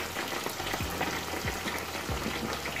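Dense, steady frying of chicken in oil crackles and bubbles close by, with a few soft low thumps mixed in.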